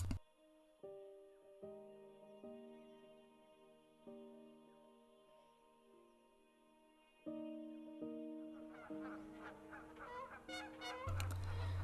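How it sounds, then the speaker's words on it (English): Canada geese at the Rio Grande, a wintering waterfowl area, honk in repeated bursts, a few calls at first and then a louder overlapping chorus near the end over faint background sound. "The large and noisy Canada goose is North America's most common and widespread goose."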